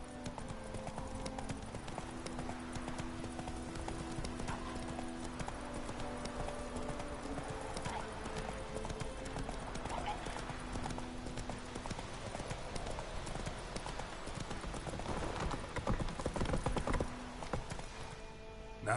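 Roach, the horse in The Witcher 3 on PS4, clip-clops in a steady, close hoof rhythm that runs throughout, over a low ambient game score, with a brief louder stretch near the end.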